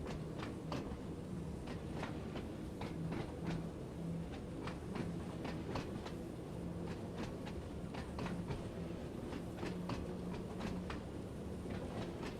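Southbound train on the Isle of Wight line in Train Sim World 2, rolling steadily on rails with a continuous rumble, regular clickety-clack wheel beats over rail joints and a faint intermittent motor hum, no talk.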